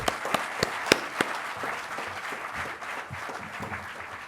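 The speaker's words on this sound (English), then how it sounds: "Welcome him with a round of applause." Audience applause at a university lecture hall as a professor is introduced, a steady wash of many hands clapping with a few sharper close claps early on, moderately loud and sustained without speech.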